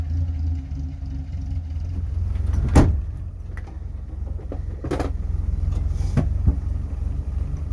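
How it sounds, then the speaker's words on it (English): Land Rover engine idling and rumbling steadily, with a couple of sharp clunks like a door or latch closing and brief rustles over the continuous low drone. "Drag the Land Rover out today."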